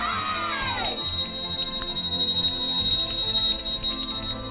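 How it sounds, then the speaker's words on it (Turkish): A bright bell rings with a falling tone, then a sustained metallic ring with small repeated tinkles, loud and close. "Bu bir çan."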